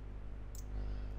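A single short computer mouse click lands midway through steady background hum while a Photoshop web icon is being edited, close and fairly faint.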